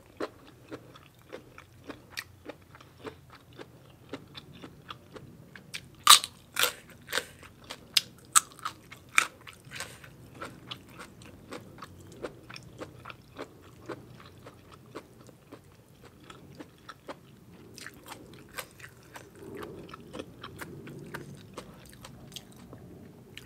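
Someone eats crunchy sabai nang with a spicy Thai salad and khanom jeen noodles, making close, sharp crunching and chewing bites in uneven clusters, loudest near the middle, with no talking.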